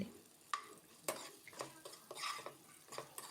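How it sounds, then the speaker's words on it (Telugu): Pieces of bitter gourd fry in a little oil in a pan, with several distinct scraping stir strokes of a spoon over a faint steady sizzle. "ఇక ఈ కాకరకాయ ముక్కలు కాస్త కలర్ మారే వరకు ఫ్రై చేసుకుందాం."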